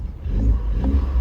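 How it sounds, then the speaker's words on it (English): Quiet BMW exhaust revving briefly, a low, close engine rise and fall with a faint turbo whoosh over it, lasting about a second. "It makes cool turbo noises,"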